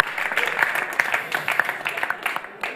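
Audience applause after a quick children's quiz at a church event, a dense steady patter of many hands clapping at close range for a few seconds, with faint voices mixed underneath.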